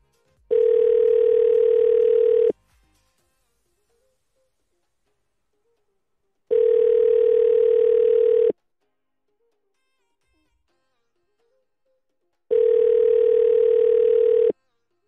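A telephone ringback tone sounds while a call waits to be answered: three evenly spaced two-second buzzing tones with long silent gaps between them, loud and clear, with no talk.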